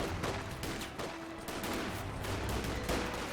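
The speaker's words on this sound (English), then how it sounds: "I'm just shooting at the units that are trying to take the church" Rifle and small-arms fire from infantry combat in Company of Heroes 2, a dense, continuous crackle of shots at steady volume with no voices.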